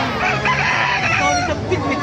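Dense clucking and crowing from many chickens at a poultry market in Baliuag, Bulacan, Philippines, with roosters calling over a steady crowded din.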